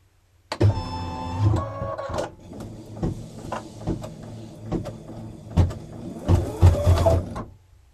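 An embroidery machine stitching a placement line on yellow fabric for a beginner mug rug, motorized whirring and rapid mechanical clatter in bursts that start, pause and resume, close by with no talking.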